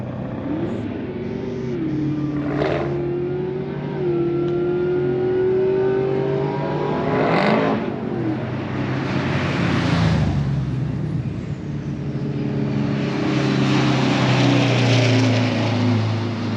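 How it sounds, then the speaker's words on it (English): A Kenworth truck revs hard and pulls away, its engine loud and close, the pitch rising and falling through repeated hard pushes over a steady heavy rumble. "Dallas is going to rip the Kenworth down"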